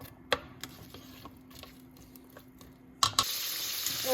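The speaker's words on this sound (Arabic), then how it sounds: "نحط البصل، خلي البصل يشوح شويه معايا" Onion sautéing in melted butter and heated oil for a potato and carrot soup, a soft steady sizzle under a few sharp clicks and knocks, swelling louder and brighter near the end.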